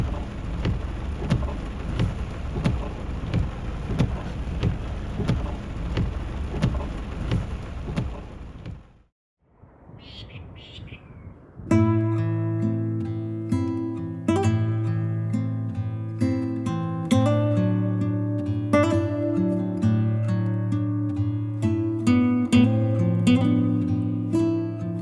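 Heavy rain hammering down during an unseasonal cyclone on a stormy coastline, dense and steady, broken by a brief muffled gap; the later part is overlaid by loud music.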